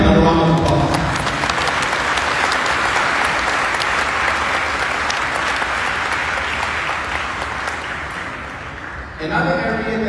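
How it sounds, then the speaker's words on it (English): Loud, dense applause from the crowd at a send-off ceremony for Saipan's Team Marianas athletes heading to the 2025 Palau Pacific Mini Games, sustained for about eight seconds before talk resumes. "Let's give them another round of applause."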